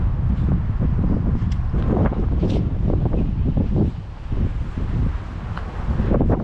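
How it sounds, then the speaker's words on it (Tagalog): Strong, steady wind roaring during a summer sandstorm in Jeddah, Saudi Arabia, gusting and buffeting the microphone continuously with rustling bursts throughout. "Lakas ng hangin."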